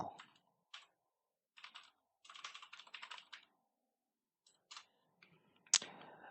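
A computer keyboard is typed on while a blog address is entered in Blogger, giving faint, sparse clusters of quick key clicks with short pauses between bursts.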